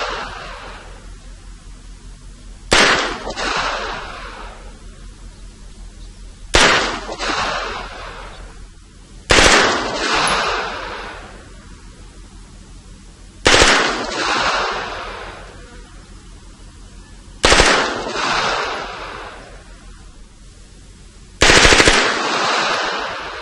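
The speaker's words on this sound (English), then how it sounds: "it's 9mm caliber, fully automatic" A fully automatic 9mm weapon fires six short, sharp bursts spaced a few seconds apart, each loud crack trailing off in echo, with no talking.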